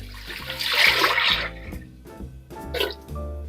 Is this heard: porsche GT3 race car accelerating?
no